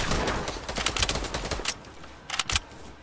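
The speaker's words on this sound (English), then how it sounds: "Shotgun." Fortnite shotgun and other gunfire crack out in a loud, rapid burst of shots, then pause briefly before a few more sharp blasts near the end.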